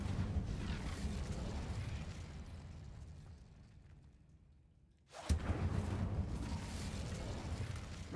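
A fire spell cast in Hogwarts Legacy erupts as a sudden loud burst and whoosh after a brief quiet lull, followed by continued roaring, crackling game ambience with a deep low rumble.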